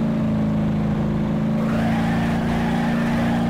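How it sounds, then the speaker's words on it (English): A loud car engine in a video game hums and builds steadily, a constant motor drone that rises slightly in pitch toward the end. "I'll just go drive in the car"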